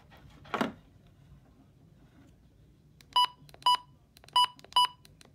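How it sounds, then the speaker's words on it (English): Four short, evenly spaced electronic beeps from a weather radio being reprogrammed to new stations, clear and close after a brief rustle, with quiet background in between. "I'm turning beeps off because it's annoying"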